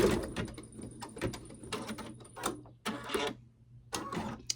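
An embroidery machine stitches a thank-you card held in its hoop, a close mechanical clatter of rapid needle strokes that comes in bursts with brief pauses between them, and no talking.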